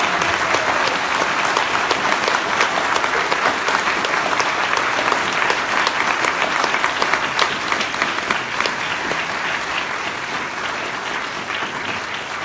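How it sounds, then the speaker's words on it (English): A forum audience applauds the candidates with sustained, dense clapping from a sizeable crowd, loud and steady, tapering only slightly toward the end. "let's give all of these candidates a warm round of applause"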